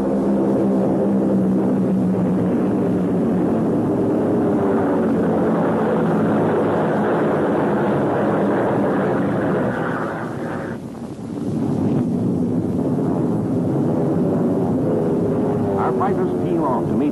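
WWII fighter planes fly past in a continuous loud engine drone with wind-like rush, dipping briefly before resuming; a narrator speaks over it.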